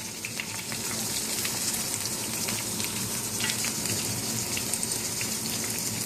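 Catfish frying in oil gives a loud, continuous crackling sizzle that stays steady and close throughout.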